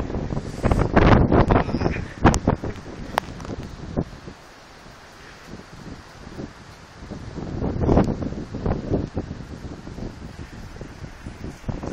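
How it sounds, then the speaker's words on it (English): Strong wind roars and gusts around a building during a major rain storm, with heavy buffeting on the microphone that surges, eases briefly, then builds again. "very, very windy. So that's on the other side of the building there, and I'm getting wet where I'm standing just from the wind."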